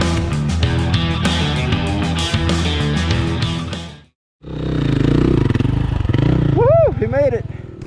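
Dirt bike engine revving and churning through snow on a trail, loud and close, with a brief cutout midway and excited voices talking over the second half.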